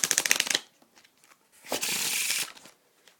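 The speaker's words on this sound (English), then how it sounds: "this deck, last time I checked, was good for riffle shuffles as well" A Bicycle Ellusionist Black Tiger playing card deck is riffle shuffled up close: a quick flurry of card flicks, a short pause with small handling taps, then a smooth longer riffle and bridge.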